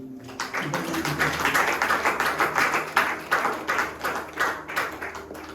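A church congregation at a Sunday service claps together, building from scattered hands into sustained, lively applause with distinct claps standing out, close and fairly loud.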